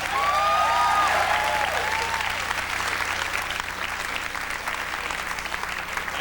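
A stand-up comedy crowd in New York claps and cheers, loud at first with a few whoops near the start, then settling into steady sustained applause.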